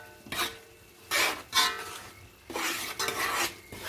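Rice mixture being stirred in a pot with herbs like basil, Puerto Rican peasant-style rice, giving several bursts of scraping and clinking of a utensil against cookware, fairly close with pauses between strokes.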